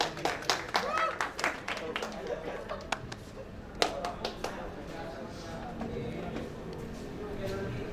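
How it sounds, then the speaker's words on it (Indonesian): Audience at an Indonesian talk event claps in applause, dense at first and then thinning to scattered individual claps, heard in a room with crowd murmur and voices underneath. "Tepuk tangan dulu dong."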